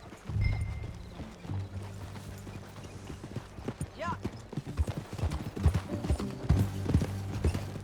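Steady clip-clop of a horse's hooves as it is ridden in Red Dead Redemption 2, the rhythmic beats continuing throughout under a brief spoken word.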